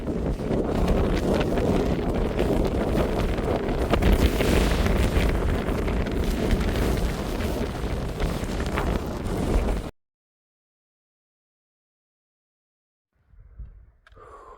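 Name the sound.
strong wind on a mountain trail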